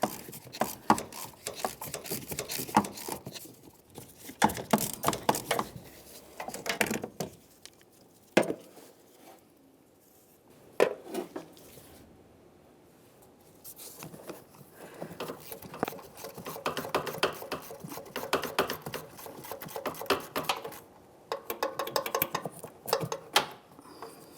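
Ratchet wrench loosening exhaust manifold nuts on a 2003-2011 Mercury Grand Marquis, heard in close bursts of rapid clicking and metallic mechanism rattles, broken by a few quiet pauses.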